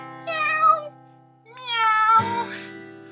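During a children's singalong of Old MacDonald, voices imitate a cat, giving two drawn-out, sung meows in a row, close and clear, with the second ending in a breathy rise.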